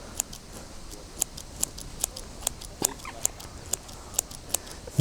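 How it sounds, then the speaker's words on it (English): Scissors snip through worms being chopped into fishing bait for carp, a run of sharp, evenly spaced clicks about twice a second, close and fairly quiet over a low outdoor background. "Getting these scissors out. I'm just chopping those worms up."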